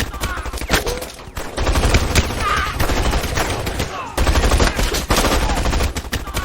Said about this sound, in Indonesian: Tim berhasil selamat dari tembakan Grus dan pertarungan pun terjadi